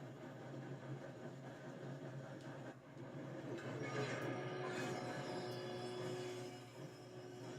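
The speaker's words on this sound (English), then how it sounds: "We have to stop this train." Train rolling along rails in the Red Dead Redemption 2 western game, a continuous, fairly quiet rumble of wheels and carriages with faint metallic rattles and squeals, no speech heard.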